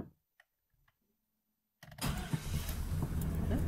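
1998 GMC Suburban engine cranking to life after a few faint clicks and near silence, then catching and settling into a steady, loud idle close by.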